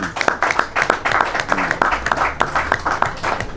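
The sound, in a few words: audience applause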